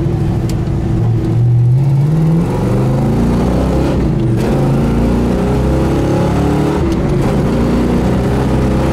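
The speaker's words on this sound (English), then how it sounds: "They do a beautiful job on the exhaust. It sounds so great nice too." A car's engine and exhaust hum and rise steadily while driving, with a low, continuous drone that swells in pitch as it accelerates, close and loud throughout.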